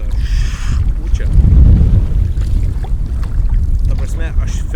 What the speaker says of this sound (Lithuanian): Dabar vėl tas karštas vėjas toks padavė.